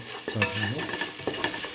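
A spoon stirs and scrapes through a thick potato and split mung bean stew in a pot. Continuous close mixing with a light simmering sizzle runs underneath, and there is no speech.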